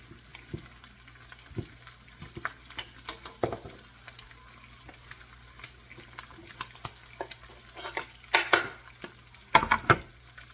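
Ground meat sizzles in a pan while a utensil scrapes and stirs, with irregular clicks and scrapes growing busier toward the end.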